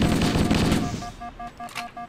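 An enemy fires plasma bursts in Halo: Combat Evolved, a dense rapid volley that tapers into a few evenly spaced pulsing shots, loud and close, with no talking.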